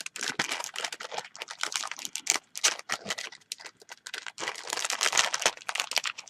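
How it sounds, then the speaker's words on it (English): Packaging crinkles in quick, irregular bursts as a card is unwrapped, close-up with many short crackles and rustles and brief pauses between them. "Sorry for the crinkling"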